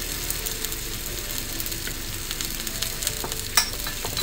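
A spoon stirs tomato pulp, tomato sauce and mustard in a pan over the heat, giving a steady soft sizzle with faint scraping throughout and one sharper clink near the end, no voices.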